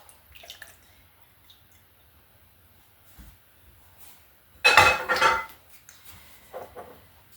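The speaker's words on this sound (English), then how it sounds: "I'm going to pour in my 6" Six beaten eggs are poured into a spinach dip mixture, making a short wet gloopy splash and slosh of about a second after some quiet clinks, with a smaller splash afterwards.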